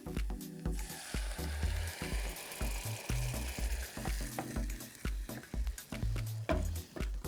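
Grated fresh tomato sauce for pizza poured into a hot pot sizzles loudly and steadily, with bursts of crackling and the clatter of stirring and the pot throughout.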